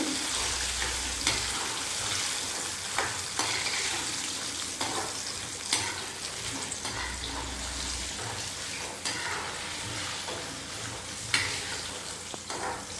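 Peanuts deep fry in sesame oil, giving a continuous, loud, dense sizzle and bubbling hiss close by, with occasional scrapes of a utensil stirring through the pan.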